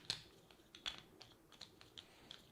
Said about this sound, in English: I shouldn't look at the tiles as I'm shuffling them